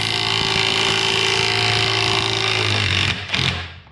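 A DeWalt DCF923 20V 3/8-inch cordless impact wrench on setting 2 drives grade 5 bolts, a steady, loud motor whine with rapid hammering that runs about three seconds, then cuts off.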